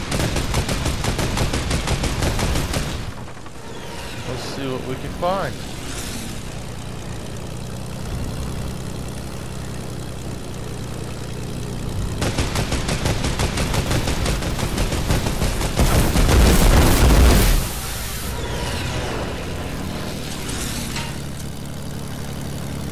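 Bursts of gunfire from a Fortnite-style video game battle with several players, sustained rattling volleys that come and go, loudest near the end, with a steady engine drone underneath throughout.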